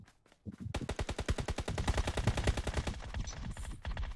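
Rapid bursts of automatic gunfire rattle continuously for several seconds in the mobile game New State, loud and close, with sharp repeated shots.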